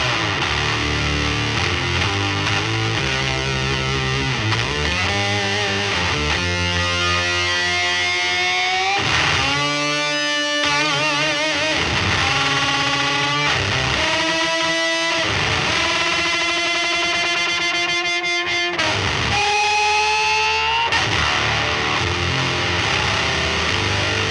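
Electric guitar run through the loop-2 effects chain of an EarthQuaker Devices Swiss Things pedalboard utility, heard alone for the whole stretch: dense, distorted and heavily processed, with sustained bent notes and chords that shift and swell at a steady loud level.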